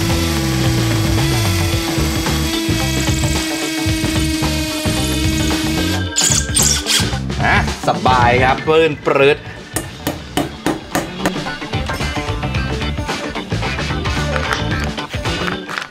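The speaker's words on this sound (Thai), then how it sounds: "พอเราเปิดกระแทกนะครับแล้วเราเจาะปูน" A PUMA PM-245BL cordless hammer drill roars steadily, then breaks into rapid hammering bursts as it bites into concrete, loud and close with a brief spoken remark.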